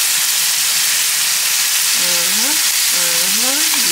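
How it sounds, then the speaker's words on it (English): Meatballs browning in a frying pan give a steady, loud sizzle with constant hissing throughout, while a faint voice briefly murmurs over it near the end. "Our meatballs are nicely browning."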